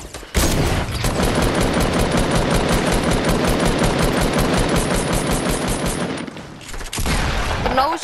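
Sustained rapid automatic gunfire in the video game Fortnite, a loud dense burst of shots lasting several seconds, briefly breaking off near the end and resuming, with no voices.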